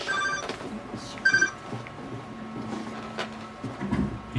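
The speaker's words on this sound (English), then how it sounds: "That's my phone." A phone in the video game Ghostbusters rings in short electronic bursts amid quiet game ambience and scattered clicks, moderately faint with no talk.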